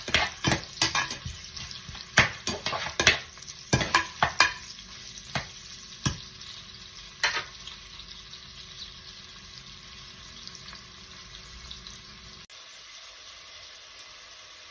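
Onions sauté and crackle in a pot for a lamb biryani, with frequent sharp stirring scrapes and clinks early on. The sizzle then settles into a quieter, even fry before cutting out near the end.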